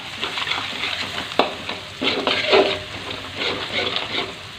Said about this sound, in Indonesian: Aduk terus guys. Biar apa namanya? Matengnya rata.